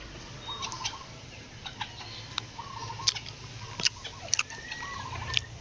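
Chickens feeding on a farm, with scattered pecking taps and soft clucks and chirps over a steady low background hum, close and fairly quiet.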